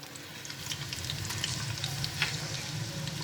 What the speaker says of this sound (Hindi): इस प्याज को हल्का सा फ्राई होने देंगे